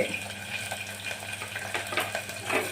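Sliced onion sautés in a pan for moong dal khichdi, a close, fairly soft sizzle with uneven stirring scrapes and clinks of a spoon.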